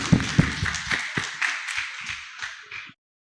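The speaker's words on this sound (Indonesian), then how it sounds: "mohon tepuk tangannya buat peserta panitia" A small group claps for the committee at a school debate event, SMAN 1 Manyar's 2021 student council election, with a few sharp near claps at first, then a thinning patter that fades out within about three seconds.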